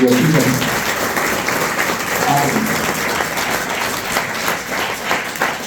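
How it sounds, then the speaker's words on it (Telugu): A school assembly audience claps for Mohan Reddy, producing a steady, dense wash of applause that holds at an even level throughout, with faint voices underneath. "sir should clap to Mohan Reddy sir"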